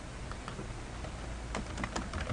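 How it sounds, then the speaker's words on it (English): Quiet computer keyboard typing, a scattering of light clicking keystrokes that quicken into a short burst near the end, faint beneath a constant low background hum. "are you typing?"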